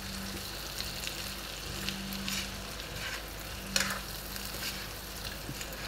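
Butter shrimp sizzles steadily in a pan, a dense continuous frying hiss with a faint low hum beneath and an occasional sharper crackle or utensil tap, no voices.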